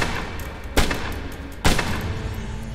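Two sharp gunshots from the video game Assassin's Creed Chronicles: India crack out about a second apart over a steady background hum.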